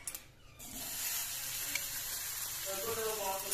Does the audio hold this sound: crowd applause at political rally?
no